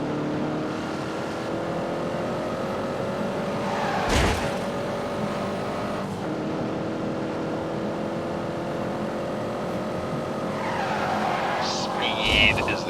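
A car engine droning steadily at speed in The Grand Tour video game, with tires squealing and skidding in short bursts and someone talking over the driving.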